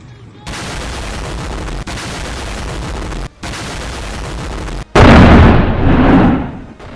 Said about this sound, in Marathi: हा धमाका आहे पाकिस्तानातल्या बलुचिस्तान प्रांतातला